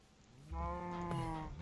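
Minecraft cow mooing as it is hit in the game, a short harmonic bleating low moo rising in loudness and holding for about a second, clear and close with no talk over it.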